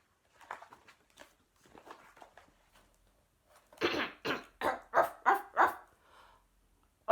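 A little dog barks six times in a quick, loud, close series, after a stretch of softer muffled sounds and quieter yips; no talking.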